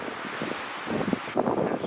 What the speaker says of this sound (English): Until it's windy.